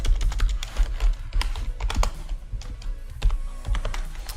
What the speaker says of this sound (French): J'ai un nouveau clavier, alors faut que je prenne l'habitude.